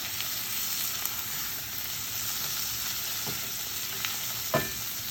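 Tomato and raw cashews with a pinch of Himalayan pink salt are stirred in a pan for butter chicken, giving a steady low sizzle with a few soft scraping knocks from the spoon.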